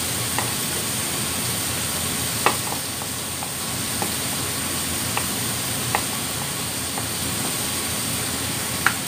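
Mushrooms stir-frying in a wok for a Hong Kong-style dish, a steady broadband sizzle with a few sharp clicks of a utensil scraping and stirring, close and continuous with no talk.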